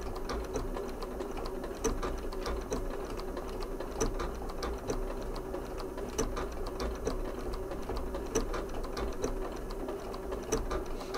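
A Janome 9480 sewing machine stitches quilting with a fast, even mechanical whir and regular needle ticks, moderately quiet and steady throughout, no voices.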